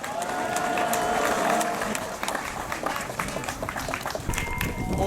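Outdoor audience at a rally against the THAAD missile base clapping to welcome a Won Buddhist committee member to the stage, steady broadband applause with crowd noise over a faint background tone, moderately close.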